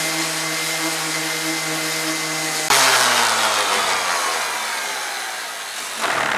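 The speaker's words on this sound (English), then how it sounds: "concentrate my sanding right there" Sanding on a scarf joint cut into a new wooden boat plank, a steady close machine-like drone with a sharp jump in intensity partway through and a gradual fall in pitch after it, no voices.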